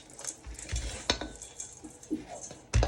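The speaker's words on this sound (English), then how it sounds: "So just give it a really good mix." Raw granola and shredded coconut tossed together in a bowl, with spoon scrapes and clinks against the bowl in irregular bursts and one louder knock near the end; close and moderately quiet.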